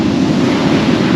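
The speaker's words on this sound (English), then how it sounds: "it's bloody chilly with that wind blowing" Cold wind blows hard across a seaside fishing beach, buffeting the microphone with a loud, constant roar that merges with the wash of surf, and no voices are heard.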